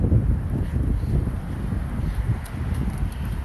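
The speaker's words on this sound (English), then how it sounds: "Wind's a little brutal in my face" Wind blasting a cyclist's face on a cold, sunny road ride, a steady low rumbling roar of microphone buffeting throughout with no talk.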